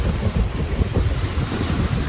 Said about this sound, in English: this wind that is blowing. It's really, really, really strong.